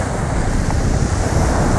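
Waves breaking on a beach near Skala on Kefalonia, a steady broadband roar of surf mixed with wind buffeting the microphone, loud and continuous with no voices.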